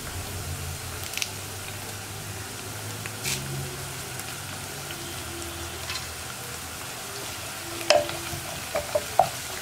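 Ginger, garlic, green chili and curry leaves fry in hot oil for a Kerala lemon pickle, giving a steady soft sizzle, with occasional stirring clinks and scrapes that grow sharper toward the end.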